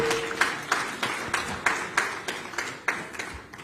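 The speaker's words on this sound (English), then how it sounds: "can we give them another round of applause?" Applause at a government public-private partnership launch event: steady, evenly spaced claps roughly every third of a second, fairly faint and somewhat distant in a room, with no talk over them.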